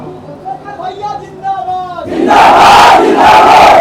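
At a political rally in Prayagraj, India, a politician speaks loudly, then a large crowd erupts in a sustained roar of shouting and slogan chanting that drowns everything out.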